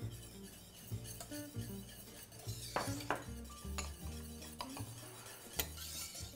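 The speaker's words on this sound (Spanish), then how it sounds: "Y mezclamos bien." A utensil clinks and scrapes against a bowl as rum is stirred into eggless festive eggnog, with a steady run of soft taps and knocks over background music.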